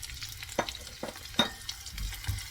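Ginger frying with onions in a pan for a chicken curry makes a soft, steady sizzle, broken by a few quiet scrapes of stirring, with no one talking.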